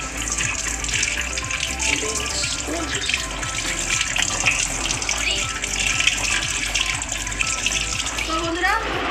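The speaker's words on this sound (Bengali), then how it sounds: "আমার ধোয়া হয়ে গেছে পুরো পরিষ্কার করা হয়ে গেছে" Tap water gushes steadily into a sink while duck meat is washed, loud and close, with handling splashes and clatter throughout and a faint voice in the background.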